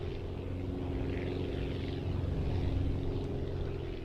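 A badly designed propeller plane drones steadily in the flight game Aviassembly, its engine a constant, close, unbroken rumble for the whole stretch.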